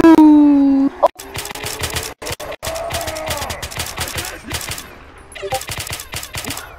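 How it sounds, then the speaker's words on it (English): Rapid bursts of gunfire from a Roblox shooter game crackle in quick volleys, some spaced single shots and some dense runs, fairly loud, with a brief tonal game sound at the start and talking mixed underneath. "why are you still shooting?"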